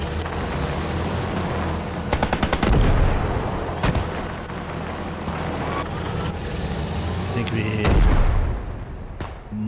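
Battle sounds from the WWII game Gates of Hell: Ostfront, a short rapid burst of machine gun fire amid booming impacts and rumbling background combat, with someone talking over it.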